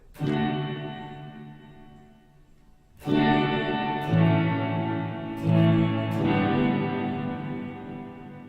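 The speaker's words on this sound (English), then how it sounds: "So with it turned up to maximum, we'll have the maximum amount of low frequency in the reverb" A Strymon blueSky reverberator with low damping turned to maximum, several plucked or struck notes swelling into a long, bassy, washy reverb tail that blooms and lingers between attacks.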